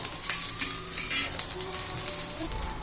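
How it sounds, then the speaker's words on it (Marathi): Peanuts and garlic dry-roasting in a pan for Kolhapuri thecha, a steady close hiss and sizzle with scraping stirs and light clinks of the utensil against the pan. "डाग पडेपर्यंत आपण हे सर्व भाजून घेणार आहोत"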